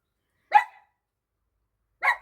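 A dog barks twice at someone outside, two short, sharp barks spaced well apart against otherwise silent surroundings.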